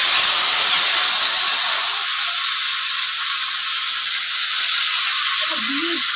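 Water poured onto sautéed potatoes for a koi fish curry sets off a loud, steady hiss that holds unbroken throughout, with faint clatter beneath.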